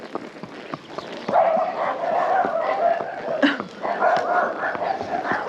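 Several dogs bark and yip repeatedly in a small rural hamlet, a busy, overlapping chorus at moderate distance, with rustling and faint background noise.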